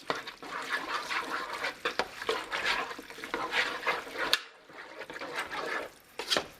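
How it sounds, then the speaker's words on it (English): Beef stroganoff ingredients made from food-storage staples, including cream of mushroom soup, stirred together in a pot, giving steady wet squelching and sloshing strokes with a short pause near the end. "Stir this all up."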